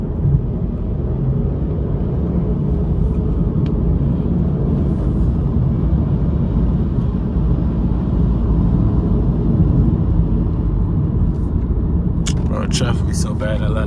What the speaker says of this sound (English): We're gonna roll these up so y'all can hear the car when it rev up